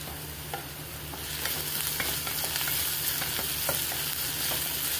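Onion fries in oil with a little salt for a dry potato sabzi, a continuous close sizzle that swells after the first second, with scattered spatula scrapes and knocks against the pan. No voices.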